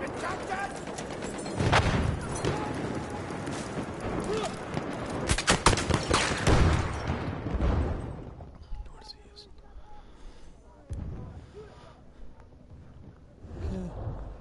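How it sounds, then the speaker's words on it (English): Machine gun fire in a Battlefield 1 match: dense, loud bursts of rapid gunfire over the first eight seconds, fading to scattered distant shots and a low rumble. "Enemy machine gun sighted."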